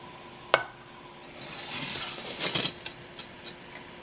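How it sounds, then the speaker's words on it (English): Sautéed onions being pushed across a pan with a utensil, making a soft sizzling scrape that swells midway, with a sharp clink near the start and a few light taps later, close and without talk. "we're going to bring the sauteed onions to the front."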